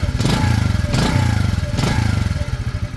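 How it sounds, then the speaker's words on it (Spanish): A Motomel Blitz 110 motorcycle engine runs close and loud, its rapid puttering exhaust swelling in three quick revs over a steady idle, with no talk. "Y así estaría sonando la Motomel Lips 110 Full."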